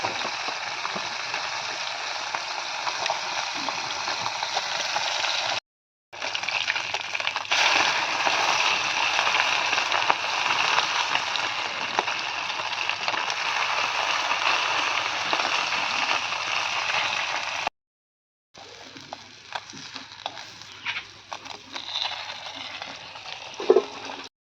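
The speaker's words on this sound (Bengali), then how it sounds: "তো এই যে এখন হচ্ছে চারা মাছ ভাজা।" Chara fish fries in a pan, a loud, continuous close-up sizzle broken by two brief silent gaps, with faint scraping toward the end.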